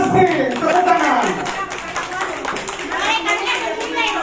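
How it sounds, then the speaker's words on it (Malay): Guests at a Malay wedding reception clap together in a steady, dense patter that fills the room, with voices and children's chatter mixed in. "tepuk tangan"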